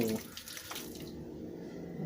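Coolant splashing out as the water pump is opened on a Claas Dominator 108SL combine with a Mercedes OM 442 engine, a short close gush of liquid that dies down into a quieter trickle.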